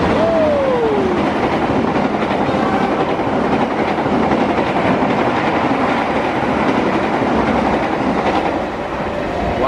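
Fajar Utama Yogyakarta passenger train rolling past at close range with a steady, loud rumble and wheel clatter throughout, opening with a brief falling horn tone.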